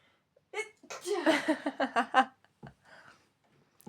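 A woman sneezes indoors, a single close, loud sneeze with a breathy build-up and a short burst, followed by faint breaths and laughter-like sounds.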